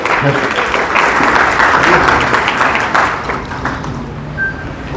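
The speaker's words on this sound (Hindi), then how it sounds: "जोरदार तालियों से इनका भी इस्तकबाल करिए" An audience at a print media event in Aurangabad claps loudly to welcome a guest, continuous applause mixed with crowd murmur that fades toward the end.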